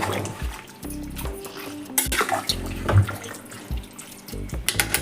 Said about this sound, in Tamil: ஓரளவுக்கு தான் தண்ணி ஊற்றணும் இதுலேயே தண்ணி வரும்